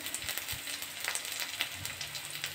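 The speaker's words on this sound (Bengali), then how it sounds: "এবারে দিয়ে দিচ্ছি পেঁয়াজ কুচি, কয়েকটা রসুন কুচো," Chopped onion and garlic frying in oil for dal, a soft, fairly quiet sizzle with small scattered pops and stirring scrapes, close by and continuous throughout.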